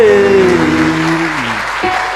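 A church congregation applauds, a dense wash of clapping heard under a sustained, gliding musical tone that falls away toward the end.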